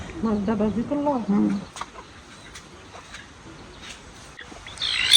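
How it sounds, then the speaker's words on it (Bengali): Local desi hens bought at a market cluck in a burst of close, throaty calls at the start, then go quiet apart from faint scattered sounds, with a louder noise at the end. "এই মুরগিগুলো আমি বাজার থেকে আনছি চারটা মুরগি এক হাজার টাকা দিয়ে আনছি দেশি মুরগি"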